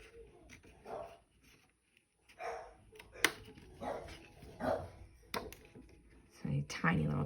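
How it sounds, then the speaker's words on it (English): A tiny dog barks in several sharp bursts spread across the stretch, fairly faint and somewhat distant, with someone talking quietly between and around the barks. "a tiny little dog, he's not going to do much to save us from impending doom. Sure sounds mean though, doesn't he?"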